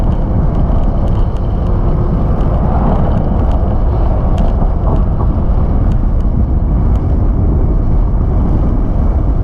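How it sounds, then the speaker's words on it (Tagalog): Strong wind roars and buffets the microphone in a loud, constant rumble, with faint scattered ticks beneath it, on Camiguin island. "Grabe hangin dito"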